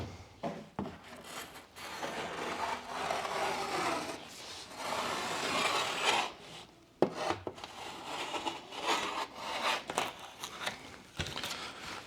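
A scored sheet of drywall is snapped by hand indoors, giving dry scraping and rubbing of gypsum board with a sharp crack partway through, close up and with no talking.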